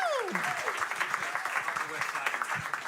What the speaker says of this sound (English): can we just give them a hand clap for this great show?